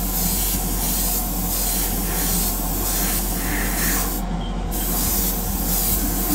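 Airbrush spraying a base coat onto a Greek style vase, a steady close hiss that runs continuously with slight pulsing and one brief cut-off near the end.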